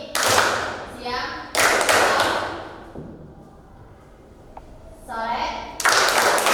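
Sharp bursts of hand clapping in a rhythmic clapping game, each cluster of claps and taps separated by short pauses, with a voice chanting between them.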